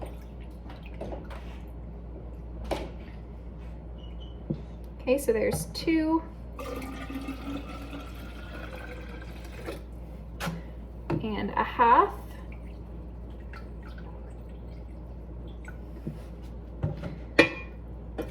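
Distilled water poured for home-brewed kombucha, with short bursts of splashing and trickling separated by pauses and small knocks, close by, while a person talks between pours.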